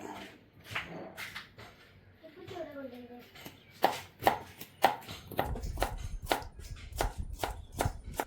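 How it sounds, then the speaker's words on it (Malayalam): Carrots being chopped with a knife on a board, a series of sharp, close, evenly spaced cuts that speed up into a rapid chopping run, with a voice heard briefly near the start. "നമ്മൾ ക്യാരറ്റ് ഇങ്ങനെ കട്ട് ചെയ്ത് കൊടുക്കുക"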